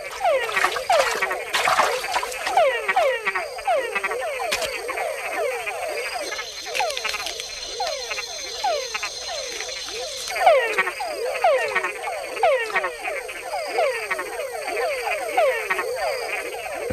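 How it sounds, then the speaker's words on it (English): Male frogs call in a Panama rainforest, a dense chorus of rapid, repeated chucking notes from several animals overlapping steadily at close range, with faint insect buzzing behind. "male frogs have to think twice about sounding off, because females aren't the only ones out there listening to the chucks"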